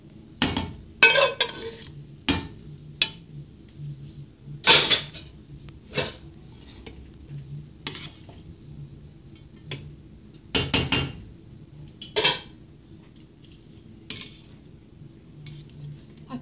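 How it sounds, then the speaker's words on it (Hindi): Spaghetti being tossed and mixed with a utensil in a small pot with ghee, chicken and mixed vegetables, giving irregular metallic clinks and scrapes in bursts, moderately close, with a faint low background hum. "ये हमने डाल दिए स्पेगेटी और हम मिक्स कर देंगे"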